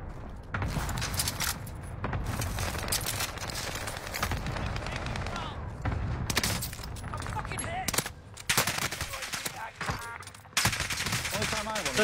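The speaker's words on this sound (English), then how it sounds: "Shooting fucking people in the head from literally 2 centimeters away" Rapid gunfire from a shooter video game, bursts of automatic shots and single cracks crowding together in dense, continuous volleys that sound fairly distant and muffled at low level.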